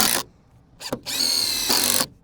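A power drill drives screws into a wooden truss and 2x6 in two bursts, a short whir followed by a longer steady whine that winds down, with quiet gaps between.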